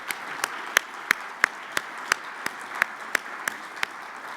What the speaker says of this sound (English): I'd love to give a big round of applause for all of the presenters today